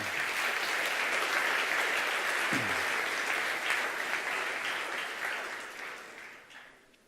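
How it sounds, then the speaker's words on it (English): An audience at the closing session of the useR! 2017 R user conference gives sustained applause, dense and even at first, then thinning and fading out toward the end. "And please give yourself an applause."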